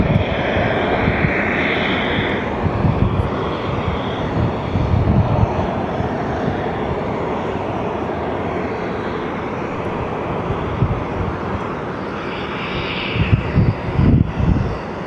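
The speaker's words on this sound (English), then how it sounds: "I think that plane should be coming up next." Air Force Two on final approach to Phoenix Sky Harbor airport, a loud, sustained engine roar that swells and fades over about fifteen seconds with no voices.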